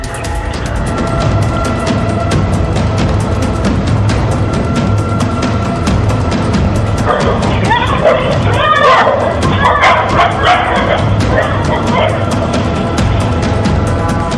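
Three stray dogs bark and yip while chasing a boy who has just left his house, caught on street CCTV; the dog sounds are muffled and blend into a loud, continuous layer of narration and background music.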